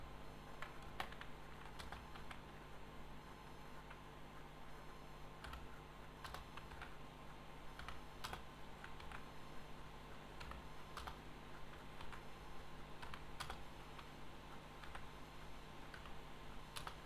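Steady keystrokes on a computer keyboard while HTML code is typed, a continuous close run of light clicks with occasional sharper taps, no voices.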